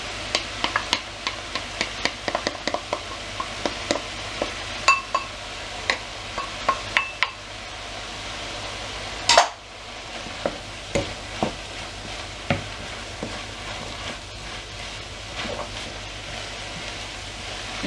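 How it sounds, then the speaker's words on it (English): Rice frying in a pan for syn-free special fried rice, stirred steadily: a continuous soft sizzle broken by frequent scraping clicks of the utensil, close and moderately loud, with no talking. "And just keep stirring it, because once you add the rice has a tendency to stick to the bottom of the pan"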